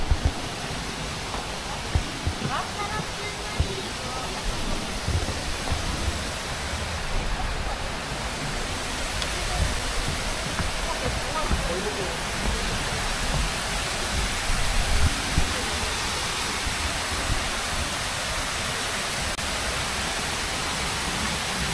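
River water flowing beneath a bridge in Seoul, near a cafe under a train bridge, as a dense, steady rushing roar that holds level for the whole stretch with no talk.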